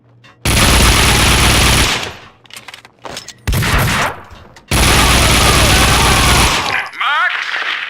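Gunfire in the video game Max Payne 2, with long loud bursts of rapid automatic fire broken by short pauses and a few scattered single shots, harsh and close.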